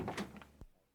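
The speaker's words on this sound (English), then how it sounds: "then Holmes got up and opened the door" A door opens in a short sound effect: a faint creak and scrape, then a single soft knock as it finishes, all within a second and heard alone.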